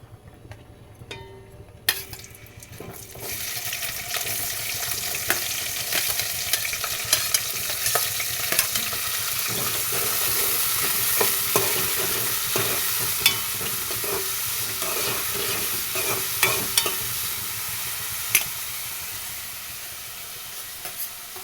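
Tempering seeds sizzle and crackle steadily in hot oil for a home-cooked lunch, with a sharp burst as they hit the pan and intermittent scraping stirs throughout, close and alone.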